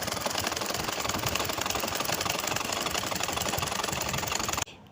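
A sewing machine runs steadily and fast, stitching a thick, folded edge of curtain fabric where a strap will go, with a dense rapid needle rhythm that stops abruptly near the end.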